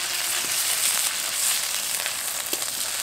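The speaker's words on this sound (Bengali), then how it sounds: "দিয়ে দেবো আদা রসুন বাটা।" Ginger garlic paste hits lightly browned onions in hot oil, making a loud, steady, close sizzle that hisses continuously with small crackles and no talking.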